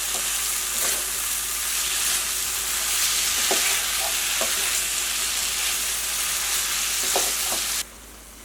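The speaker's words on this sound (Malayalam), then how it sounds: "ഞാൻ തുറന്ന് വെച്ചിട്ടൊന്ന് ഇളക്കി കൊടുക്കാം" Chicken masala for chicken kondattam drying out in an open pan, a loud continuous sizzle with intermittent scraping taps of a spoon as it is stirred, cutting off abruptly near the end.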